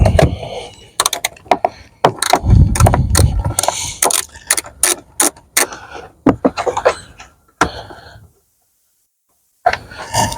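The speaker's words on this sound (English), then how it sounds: "I'm going to undo this other bolt here." A wrench works loose an engine mount bolt on a Cadillac SRX 4.8 V8: close, loud metallic clicks and ratcheting scrapes in irregular bursts, then a brief silence before more clanking.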